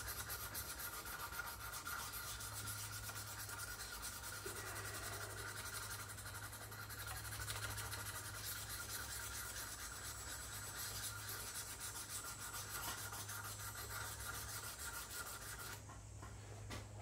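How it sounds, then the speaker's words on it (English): A wooden spokeshave blade is rubbed back and forth on fine lapping film to polish away scratches after raising a burr. The soft, even rasping is faint and continuous, alone, stopping just before the end. "now that I have the burr there, this is just polishing, getting rid of the scratches"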